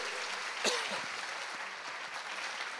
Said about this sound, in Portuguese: Essas palmas são para vocês.